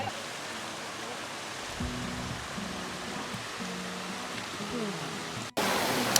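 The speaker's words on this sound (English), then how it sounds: "I've made it back to the halfway point where the waterfall is" A waterfall on the Ben Nevis trail roars as a steady, dense rush of falling water heard close by, with a few faint low tonal sounds beneath and a brief dropout near the end.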